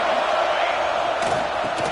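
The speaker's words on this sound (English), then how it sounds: "This crowd, full throat, spreading the eardrums" A packed football stadium crowd in an NCAA college football video game roars in a dense, steady, full-throated wall of noise that holds at constant loudness throughout.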